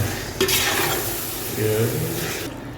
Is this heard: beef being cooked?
yes